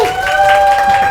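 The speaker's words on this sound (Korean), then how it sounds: "환호성 뜨겁네요" A loud crowd at a K-pop industry talk event claps and cheers continuously, a dense wash of applause with a steady ringing tone running underneath.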